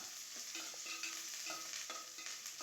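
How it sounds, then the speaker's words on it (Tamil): Small onions with curry leaves fry in oil for a dried anchovy curry, a continuous close sizzle broken by soft stirring scrapes and clicks. "வெங்காயத்தை நல்லா வதக்கிக்கலாம்"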